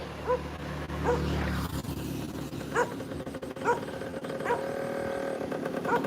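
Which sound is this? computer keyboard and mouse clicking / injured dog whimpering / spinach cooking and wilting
injured dog whimpering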